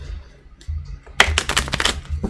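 A deck of tarot cards is riffled and shuffled close by, a quiet pause followed by a loud burst of rapid flapping card snaps lasting about a second.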